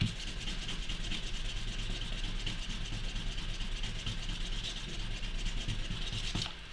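Sandpaper rubs against polymer clay in steady, close back-and-forth scratching strokes over a low background hum.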